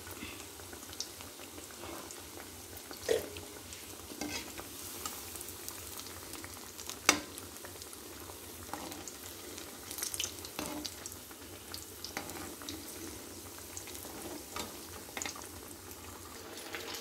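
Elephant foot yam vadas deep-frying in hot oil, a steady low fizzing sizzle with scattered pops and crackles, continuous and close throughout, no voices.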